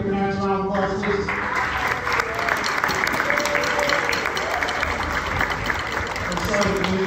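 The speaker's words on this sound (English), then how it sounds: "can we get your parents a round of applause, please?" Parents at a middle school band concert are applauded by the audience, with loud, dense, sustained clapping throughout and a held musical tone fading out at the very start.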